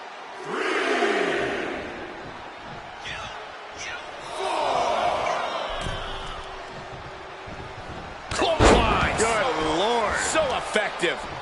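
Heavy slams of a wrestler crashing to the arena floor in the WWE 2K25 video game, loud impacts amid a roaring crowd, with a commentator's voice talking throughout.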